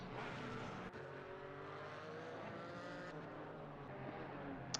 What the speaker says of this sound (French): La BMW qui peut peut-être faire jouer son moteur